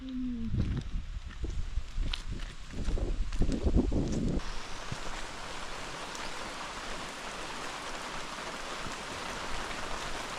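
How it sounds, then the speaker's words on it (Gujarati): Rain falling steadily in a forest, a dense even hiss of drops; the first few seconds carry some louder nearby movement and knocks before the rain settles alone. "કેવો વરસાદ પડે જો"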